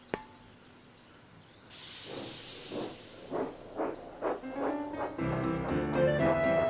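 Thomas the Tank Engine, a cartoon steam locomotive, puffs up to the wharf: a steam hiss opens, then rhythmic chuffs speed up, followed by sustained tonal music swelling at the end.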